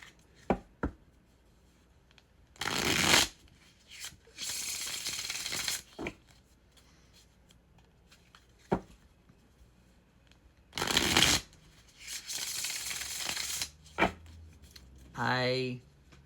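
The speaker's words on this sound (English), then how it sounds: "So shuffle your deck however you want to shuffle it. I shuffle it 9 times." Bursts of a tarot deck being shuffled, several riffling passes separated by pauses with light taps and handling noises, close and fairly quiet.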